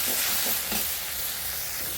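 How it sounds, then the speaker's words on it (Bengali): Fish frying in oil in a pan over a clay stove, a steady loud close sizzle with a few soft stirring scrapes near the start. "এখানে আমি অল্প ভেজে নিলাম মাছটাকে"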